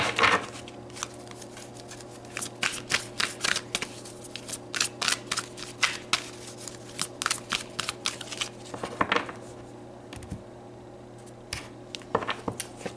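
Tarot cards being shuffled and pulled from the deck, a close run of quick papery riffles and flicks in irregular bursts with short pauses, no voices.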